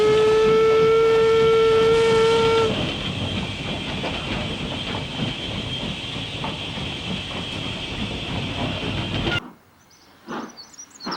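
A heavy steam train on the Astley Green and Walkden Railway pulls away with a loud whistle at the start, then a steady, effortful chuffing and rolling rumble that cuts off near the end.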